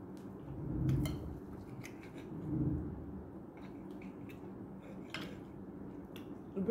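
A knife and fork cutting meat on a plate: soft scraping strokes and faint clicks of metal on the plate, quiet and close over a low background hum, with no talk.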